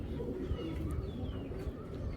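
A racer pigeon coos softly and low, close by, over a faint murmur of background noise.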